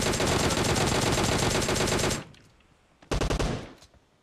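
Automatic gunfire in a battle royale video game, a long sustained loud burst of rapid shots, then a pause and a second short burst of several quick shots.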